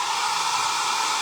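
A hair dryer blows with a steady, loud whooshing hiss that holds evenly throughout, with no voices.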